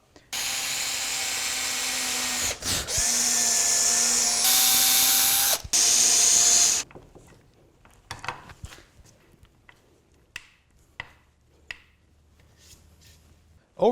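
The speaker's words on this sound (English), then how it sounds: "Pre-drilling for the screws is pretty simple. I've got an 1/8 inch drill bit into my drill" Cordless drill fitted with a 1/8 inch bit boring pilot holes for screws in wood, a steady loud whine for several seconds with brief pauses and pitch dips, followed by quieter knocks and handling noises.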